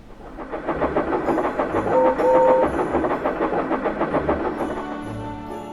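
A steam engine train runs on rails, its rhythmic clatter rising and falling at moderate loudness, with a brief whistle-like tone partway through.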